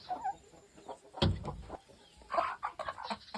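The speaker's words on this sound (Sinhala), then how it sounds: "එතන කිකිලියෝ දෙන්නෙක් ඉන්නවා" Hens on a small farm, where several chickens are laying eggs, give a few soft, scattered clucks at close to moderate distance, with one louder squawk partway through and no talking.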